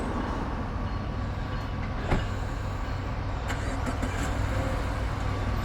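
A BNSF coal train rolls past close by, a steady loud rumble of railcars with occasional clanks and wheel clatter throughout, no talking.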